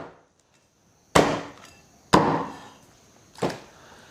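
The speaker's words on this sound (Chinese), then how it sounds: "大骨头的话，先从中间给它敲断。" A large soup bone is struck three times to crack it in half, each blow a sharp, loud chopping thwack with a short ringing decay, spaced about a second apart.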